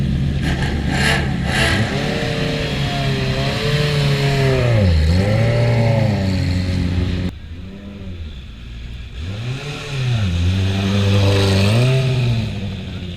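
Race car accelerating up the Goodwood Festival of Speed hill climb, engine note rising and falling through gear changes, loud and close, briefly dipping then surging again as it passes.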